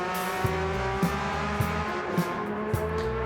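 A Group 3 race car in Gran Turismo 7 powers down the home straight at Yas Marina, its loud engine revving steadily with rhythmic gear-shift-like pulses, and no talk over it.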